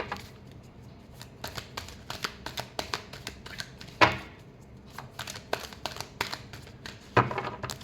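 Tarot cards shuffled by hand, a rapid run of crisp riffling flicks and taps with two sharper slaps, close and fairly quiet with no talk.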